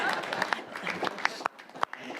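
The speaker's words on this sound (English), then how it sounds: "You may applaud." Applause at a city commission meeting, light scattered clapping from a modest room audience with irregular sharp claps and some voices mixed in.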